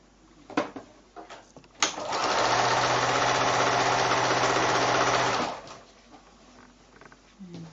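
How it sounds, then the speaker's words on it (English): A sewing machine stitches quilt block pieces made from 5-inch squares in one steady, close, continuous run of about four seconds, framed by soft handling clicks before and after. "I'm going to pick up the final one and sew that all the way down as well."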